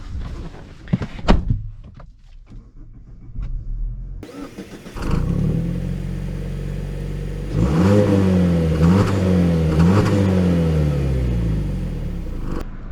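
A 2023 Mazda CX-50 Turbo starts with a clatter of door and key sounds, then its engine catches at about four seconds and settles into a steady idle. From about seven seconds it revs and accelerates, rising in repeated pulls, loud and close, with no talking.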